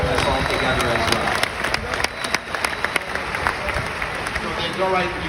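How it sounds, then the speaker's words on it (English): An audience at a convention in Tampa gives a sustained round of applause, thick continuous clapping with scattered sharper claps throughout. "If you can give him a nice round of applause for putting this all together as well."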